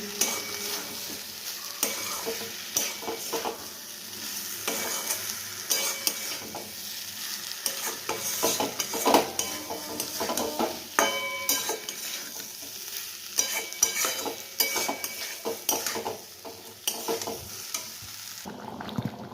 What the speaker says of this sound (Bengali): এবার আমরা আলুগুলো দিয়ে দেবো, আবার মিক্স করব